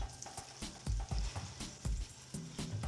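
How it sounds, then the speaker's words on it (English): An egg fries in a pan for a breakfast sandwich, giving a steady crackling sizzle with sharp pops and spatters, close and fairly quiet, with no talk. "while that egg is cooking"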